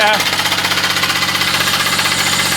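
A Jumping Jack hit-and-miss engine runs with a fast, steady chugging knock, loud and close, its regular thumping pulses continuing throughout.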